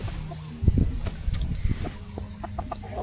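A chicken clucks softly in short, scattered bursts close by, with light outdoor background noise around it.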